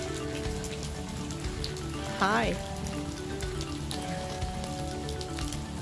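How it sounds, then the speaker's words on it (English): Heavy Texas rain drums steadily on a truck, a dense, close patter that runs throughout, while a voice briefly speaks partway through. "When Texas dumps a ton of water and rain on you, you wash your rig."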